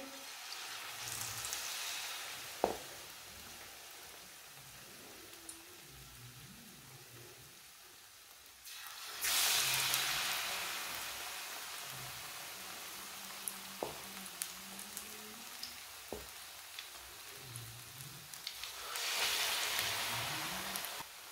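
Samosas frying in hot oil on a low flame, a hissing sizzle that swells and fades in waves, with occasional clinks and light knocks, with no speech.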